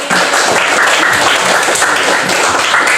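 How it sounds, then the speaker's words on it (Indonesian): Students in a classroom during a micro-teaching lesson on types of waste clap together, a loud, close, continuous patter of hands with no talking. "Ayo coba beri tepuk tangan kepada yang sudah menjawab tadi."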